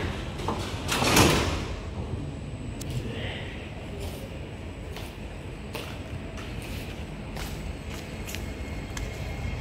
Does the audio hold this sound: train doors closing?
yes